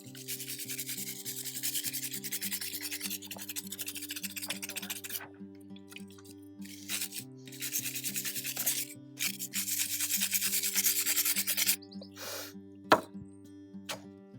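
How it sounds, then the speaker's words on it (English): A wire brush scrubs hard dirt off an everyday hand tool, making repeated rough back-and-forth scratching strokes in bursts, close up, over a quiet melodic backing track. "wire brush it"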